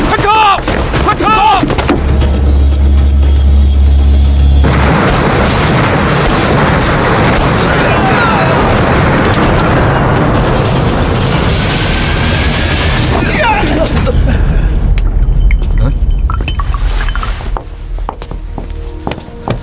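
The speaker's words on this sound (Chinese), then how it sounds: "好像是永兴码头爆炸了" Loud film-style explosion at a dock in a war-era kung fu movie, with booming blasts and heavy crashing debris rolling on continuously throughout, thick and dense, with shouting voices mixed underneath.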